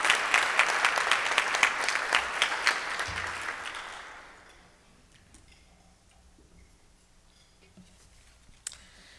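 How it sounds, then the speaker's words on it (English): A Rotary club meeting audience gives a round of applause for members' birthdays: a steady, fairly close wash of many clapping hands lasts about four seconds, then quickly fades into quiet room tone with a stray knock near the end. "Let's give them a round of applause for birthdays."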